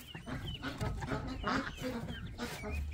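Farmyard poultry and ducks squawk and cluck close by in a restless, overlapping chorus, with a few sharper calls standing out over steady low rustling.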